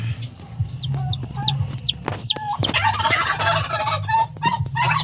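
Turkeys gobble and chirp in a flock close by, with repeated rising yelps and warbling calls over a low background rumble.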